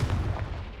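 A Confringo spell explosion in the video game Hogwarts Legacy: a single short, heavy boom with a deep low thump, loud and close, quickly fading.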